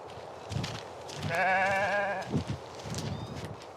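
Goats bleat nearby, one long wavering bleat in the middle with softer calls around it, over faint background noise.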